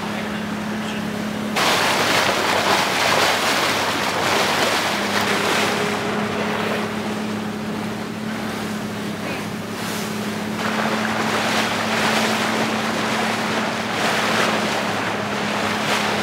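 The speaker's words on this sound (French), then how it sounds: "On est sur le bateau." A boat moving over the sea in the Dominican Republic, with a steady engine drone under rushing water, wave splashes and buffeting wind noise throughout.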